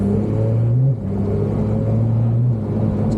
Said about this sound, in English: Girls in a race car.